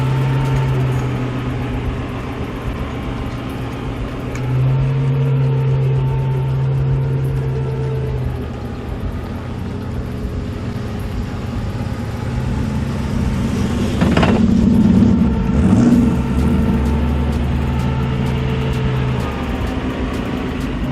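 Antique Bugatti Type 57 S classic car driving at the Chantilly Arts et Élégance 2017 concours, giving a steady low engine rumble that swells louder for a few seconds near the end, with no talk.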